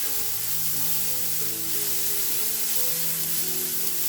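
Onions fry in oil until reddish, sending up a steady, dense sizzle that holds at an even level beneath soft background music.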